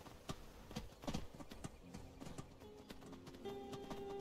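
Horse hooves clopping in Skyrim, a steady, fairly quiet rhythm of hoofbeats over faint game ambience.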